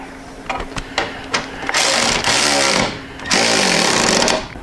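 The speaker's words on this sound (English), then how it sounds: "I'm gonna go ahead and tighten up that tank bolt" Tank bolt on a Harley-Davidson Softail motorcycle being tightened with a power tool, a few short taps followed by two sustained, loud bursts of whirring and rattling up close, with no talking.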